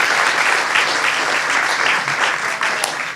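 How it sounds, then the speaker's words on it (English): Steady, full applause from an audience at a farm venue event honoring the hosts, close and continuous throughout with no talking over it. "Can we give a round of applause to Randall Spackman and Thornbury Farm?"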